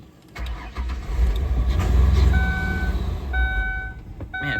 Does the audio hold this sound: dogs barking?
no